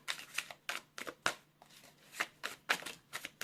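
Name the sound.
shuffling a deck of tarot cards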